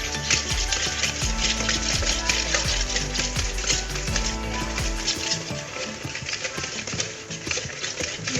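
An electric mixer beats brownie batter mixed with coffee in a bowl, running loud and steady with a constant whirring drone before it eases off near the end.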